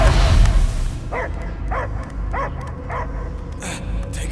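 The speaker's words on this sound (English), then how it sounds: "I hear only barking." In the Guardians of the Galaxy video game, a dog gives a run of about six short, evenly spaced barks and yips, moderately loud, following a burst of louder noise at the start and set against a steady background rumble.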